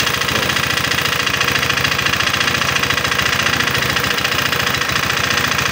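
Honda PCX 150 engine running close with a loud, fast, even knocking tap repeating steadily over a rough idle, no talking.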